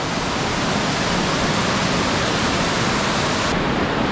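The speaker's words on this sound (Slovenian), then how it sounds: "To je slap, ki je za mano." A jungle waterfall about 20 metres high pours with a constant, dense roar of rushing water, loud and close, filling the whole moment without a break.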